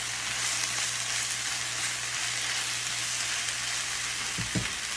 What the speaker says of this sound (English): Toss it a little bit. Make sure I get my peppers cooking up.